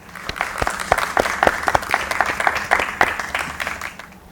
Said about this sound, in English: Let's join together to give all of the support staff a great round of applause.